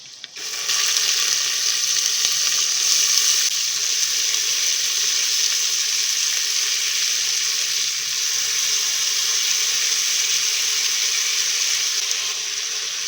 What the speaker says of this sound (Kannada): ಹುರುಳಿಕಾಳು ಸ್ವಲ್ಪ ಫ್ರೈ ಆಗಲಿ